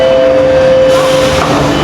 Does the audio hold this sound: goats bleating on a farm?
no